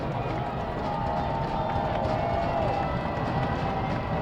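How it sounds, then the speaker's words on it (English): A college football stadium crowd at a UW Whitewater at UW La Crosse game makes a steady, dense roar of noise throughout, heard from a distance and continuing without a break. "Crowd making some noise down there."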